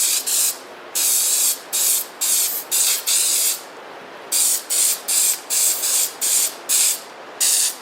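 A spray paint can sputters onto paper in about a dozen short, uneven bursts of loud hiss separated by brief pauses, the spray coming out clumpy instead of smooth.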